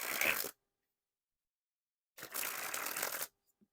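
Bloc Marble Edition playing cards are sprung from hand to hand in two quick fluttering bursts, a short one and then a longer one, close and crisp with silence between.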